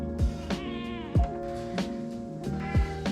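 A house cat meows several times in short, close calls spread over a few seconds, with a longer drawn-out meow in the middle.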